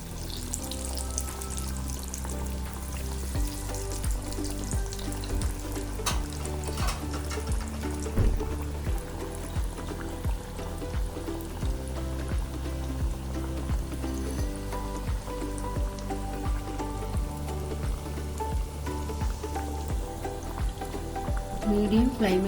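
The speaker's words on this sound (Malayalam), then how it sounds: "അപ്പോൾ നമുക്കിത് പൊരിച്ചെടുക്കാം." Cheesy chicken breadballs deep-fry in oil over a medium flame, a continuous bubbling sizzle with busy clatter and background sounds running throughout.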